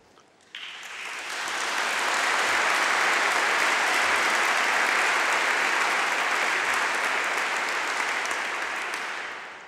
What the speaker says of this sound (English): I was hoping that you would clap at that.